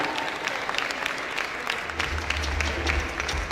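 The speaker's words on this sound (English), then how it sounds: "Give a very, very big round of applause," A large audience at a beauty pageant evening in New Jersey gives loud, sustained applause, crisp dense clapping close by with a low rumble joining toward the end.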